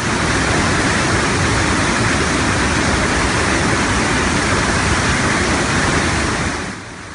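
The Sautada waterfall in Beed district, Maharashtra, flowing after heavy rain, makes a loud, continuous broadband roar that stays steady and drops off slightly near the end, with no voices.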